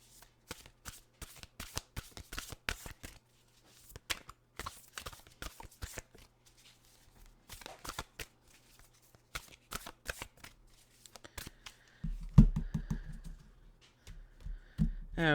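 Oracle cards being shuffled by hand in bursts of crisp riffling clicks, close and fairly quiet, with pauses between handfuls and a louder rustle near the end.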